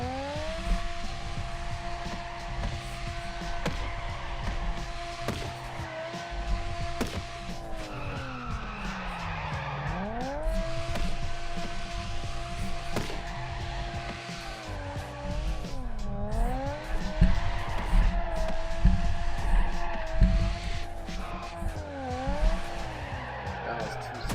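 A BMW drifts in the racing game Torque Drift 2, its engine droning and rising and falling in pitch with each slide. Tires squeal steadily throughout, loud and continuous.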